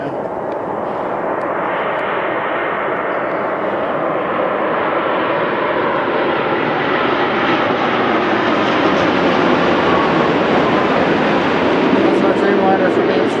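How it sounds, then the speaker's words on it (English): A Boeing 787 Dreamliner arriving from Amsterdam at Philadelphia airport, its engines a steady, loud, broad roar that swells slowly as it approaches, continuous for the whole stretch with no break. "That's our Dreamliner from Amsterdam."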